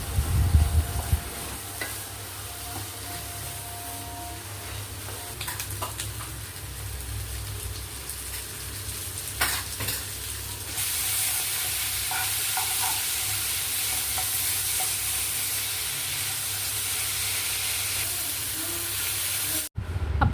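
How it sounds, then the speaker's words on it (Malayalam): Liver fry cooking down in coconut oil is stirred in a pan: a constant close hiss of frying, with occasional scrapes and taps of the spoon, and a brief thump near the start. "ഇനി നന്നായി ഡ്രൈ ആകുന്നത് വരെ ഇളക്കുക"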